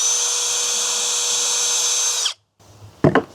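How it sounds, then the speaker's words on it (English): Power drill pre-drilling a hole while installing a TimberTech Classic Composite railing, a steady high whine running for over two seconds before stopping, followed by a brief clatter. "Pre-drill your second hole."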